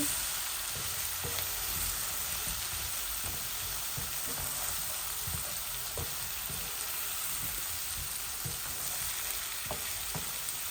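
Potatoes frying in a pan for a fish and tomato curry, a dense continuous sizzle with scattered soft clicks and scrapes of stirring, steady and close throughout, no talking.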